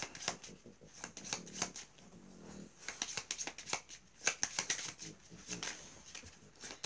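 Tarot cards being shuffled by hand, soft riffling and slapping in irregular bursts, close and quiet, with no talking.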